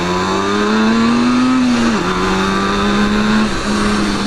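A 1974 Suzuki GT185 two-stroke twin motorcycle engine runs close and loud, its buzzing drone rising slightly in pitch, dipping, then settling to a steady idle-like hum.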